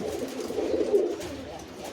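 Flying-breed pigeons coo low and close, a continuous soft throaty burbling that swells slightly near the middle.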